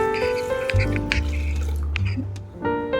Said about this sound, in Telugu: మిక్సీ జార్లో మనము కాచి చల్లార్చుకున్న గ్లాసు పాలు పోసుకోవాలి.